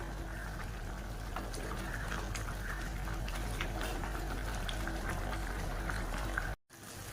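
A pot of rice water bubbles at a steady rolling boil, close and continuous, cutting off abruptly near the end.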